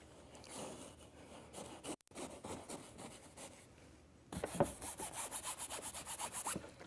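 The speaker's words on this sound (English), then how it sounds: "Scrubbing it in the canvas." A brush scrubbing oil paint into canvas, giving soft scratchy rubbing strokes that turn into a louder, brisker rhythmic back-and-forth scrubbing near the end, close and without talking.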